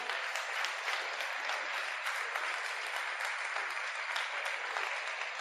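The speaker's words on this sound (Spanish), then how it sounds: "Vamos a dar un aplauso también a Dios por la vida de cada uno." A church congregation claps in praise during a service, a soft, steady wash of many hands sounding somewhat distant and quiet, continuing evenly for several seconds.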